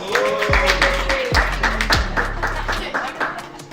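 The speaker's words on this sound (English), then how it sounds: "Give the CFO a round of applause." Claps ring out for a company's CFO as he is called up front at a youth business program event, a few sharp loud hits mixed with a scattered round of applause.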